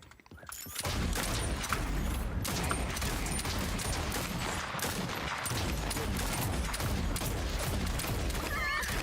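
Quick repeated sharp cracks of gunfire in the game Realm Royale, fast and loud over a dense, noisy background of game sounds, starting abruptly after a brief quiet opening.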